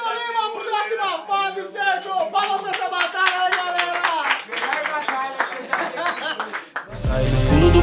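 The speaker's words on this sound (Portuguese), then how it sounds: "Palmas pra essa batalha aí, galera!" An audience breaks into clapping and cheering at a freestyle rap battle in the Batalha da Aldeia. The loud, dense applause bursts in near the end, after a stretch of voices and music.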